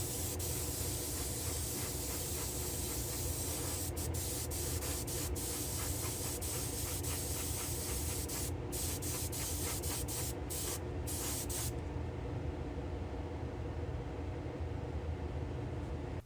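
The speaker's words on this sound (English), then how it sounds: "allow me to head back to the spray booth, and we'll give that a quick spritz" A Matchbox car is spray painted in a spray booth. A loud, steady aerosol hiss runs throughout, broken by several short pauses near the end, and then the spray stops and a quieter booth fan hum remains.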